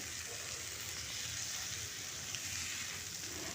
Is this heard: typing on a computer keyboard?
no